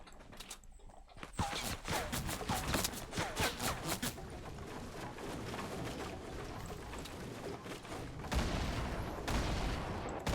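Gunfire from a Fortnite sniper fight sounds as a rapid burst of sharp, close shots followed by scattered cracks. Busy game noise runs underneath, with heavier impacts near the end.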